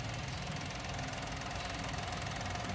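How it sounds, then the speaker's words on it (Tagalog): A Mazda Flair with a turbo engine runs at idle in the engine bay, a close, steady mechanical hum with fine rapid ticking, even and unbroken throughout. "Ito ngayon ay umaandar mga boss. Turbo ang engine na ito."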